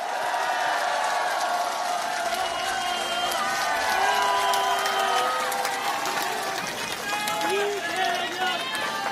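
Large outdoor crowd at a political campaign speech in Iksan clapping and cheering, loud sustained applause with whoops and shouts, amplified voices audible through the noise.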